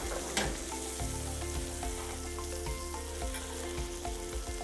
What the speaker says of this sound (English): We're gonna baste that a little bit.